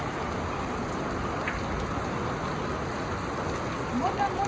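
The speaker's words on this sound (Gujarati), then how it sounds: "હાલો વરસાદ ચાલુ થઈ ગયો" Heavy rain falling outdoors as a Gujarati storm sets in, a steady dense hiss of drops on surfaces that holds at an even level throughout, with a brief faint sound near the end.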